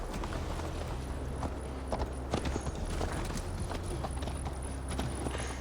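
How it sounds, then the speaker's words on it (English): Horse hooves clip-clop steadily on the ground during a ride in Assassin's Creed Valhalla, a close, rhythmic trotting with occasional sharper hoof strikes over a low background rumble. "Mount up, Eivor. It's a long ride to Tamworth"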